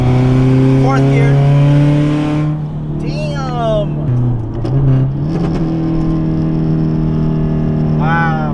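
A Subaru STI hatchback running E85, carrying 600 pounds of passengers, pulls hard in fourth gear. Its loud, close engine note climbs steadily, dips briefly at a shift, then keeps rising.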